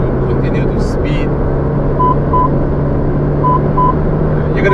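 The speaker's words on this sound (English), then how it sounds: "That's the lane departure." Lane departure warning chime in a 2019 Toyota Vios while driving: two short pairs of soft electronic beeps sound over steady road and cabin rumble.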